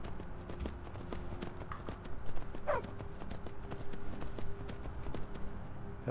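Steady clip-clop of horse hooves in a video game at a walking pace, fairly close, with a soft ambient background and a brief higher call partway through.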